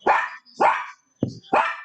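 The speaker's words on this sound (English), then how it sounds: "Dog." A dog barks four times in quick succession, loud and close, each bark short and sharp with brief silence between them.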